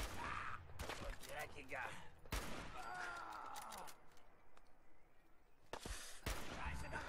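Gunfire in the video game Fallout 4, with several sharp, loud shots cutting in amid German speech and game sounds, including a burst near the start and more shots toward the end.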